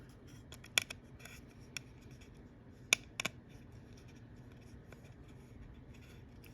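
Small screws being unscrewed from an opened DualShock 4 controller during a ribbon cable replacement: quiet scratchy turning and a few sharp clicks and ticks, with two clusters of louder taps over a faint steady background.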